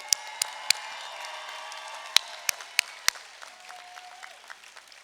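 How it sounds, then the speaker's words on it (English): A few scattered, sharp hand claps ring out sparsely at a college commencement, isolated individual claps spaced irregularly over quiet room noise, with a brief tone near the end. "Everybody, another round of applause for Christina Lee"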